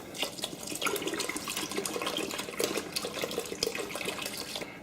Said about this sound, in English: I'm going to add the rest of my clean water.